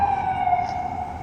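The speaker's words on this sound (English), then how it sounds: "the weather's getting nice when you start hearing them ambulance" An ambulance siren wails outside in a steady sustained tone, moderately loud and seemingly passing at some distance, with no talk over it.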